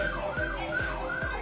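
A police or ambulance siren on a city expressway wails in steady, repeating sweeps, loud and close with no talk over it.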